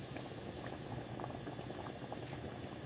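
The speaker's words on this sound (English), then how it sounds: "I boil water." Water bubbles at a steady rolling boil in a kitchen pot, a continuous close, fairly quiet churning with no voices.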